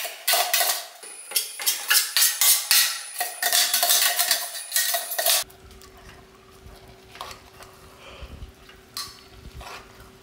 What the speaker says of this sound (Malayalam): അപ്പോൾ ചതച്ചതൊക്കെ ചേർത്ത് ഇളക്കി കറിവേപ്പില അത് ചേർക്കുകയാണ്